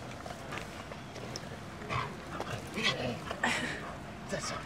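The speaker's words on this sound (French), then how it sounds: "c'est un bon chien de garde quand même" An agitated guard dog whimpers and gives short, high yips in uneven bursts, moderately close, over a noisy outdoor background.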